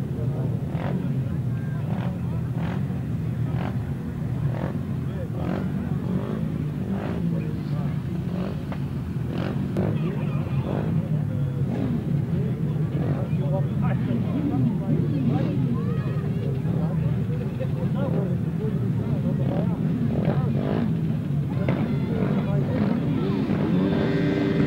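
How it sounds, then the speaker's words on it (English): Sidecar grasstrack motorcycles, the big chairs, revving and idling together before the first heat of a grasstrack meeting, a long droning engine roar with repeated throttle blips, while a commentator talks over it. "Revving up then for the first heat of the big chairs."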